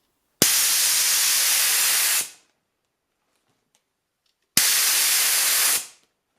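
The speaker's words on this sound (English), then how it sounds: "the safety relief valve prevents excess pressure in the tank. It should be checked for free movement." A small air compressor's safety relief valve hisses out air in two sharp, loud bursts of about two seconds and one and a half seconds, each starting abruptly and tapering off, with near silence between.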